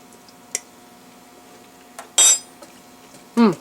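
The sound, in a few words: cleaning a spoon against a soup pot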